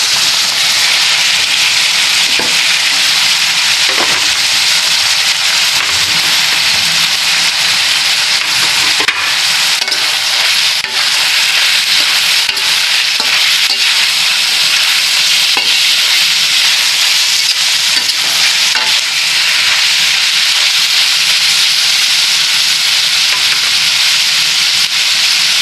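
Chicken strips stir-frying in a hot pan for pancit canton bihon, a loud continuous sizzle with scattered scraping stirs throughout.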